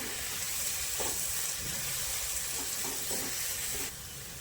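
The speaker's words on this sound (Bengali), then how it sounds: "এদিকে আমাদের পেঁয়াজটা খুব ভালো করে ভাজা হয়ে গেছে।" Onions sizzle steadily in a hot pan, a soft continuous frying hiss with no voices.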